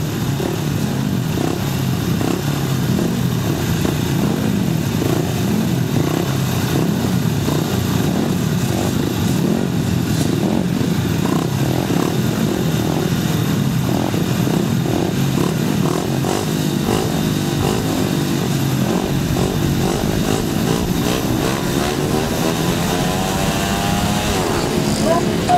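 Grasstrack motorcycles racing in a junior and intermediate heat at a summer meeting, engines roaring continuously and loudly throughout with rising and falling revs, a commentator talking over the noise.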